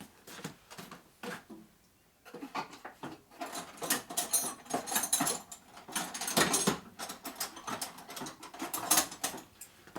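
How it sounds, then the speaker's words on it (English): Craftsman wrench tightening a nut on a flywheel truing tool, a close, busy run of metallic ratcheting clicks and light rattling that starts after a short pause and continues steadily. "I got the appropriate wrench for it too"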